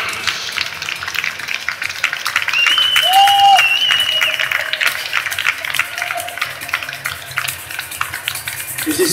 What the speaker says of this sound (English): a big applause for the Italian Greyhound